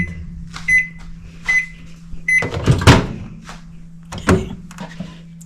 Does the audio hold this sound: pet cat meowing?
no